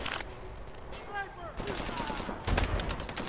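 Rapid automatic gunfire in the online shooter Call of Duty: Advanced Warfare, bursts of shots heard under a player's excited talking, with a louder burst near the end.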